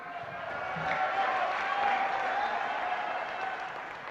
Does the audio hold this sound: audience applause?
yes